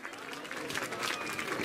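Audience applause at a religious pūjā ceremony honouring a statue installation, a steady broad clatter of clapping that holds at moderate level for the whole stretch, with a voice faintly present.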